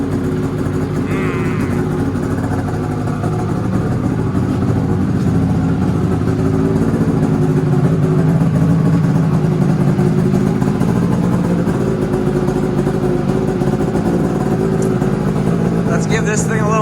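A two-stroke engine runs steadily after starting, a loud continuous mid-pitched drone warming up at a near idle with slight unevenness, filling the scene throughout.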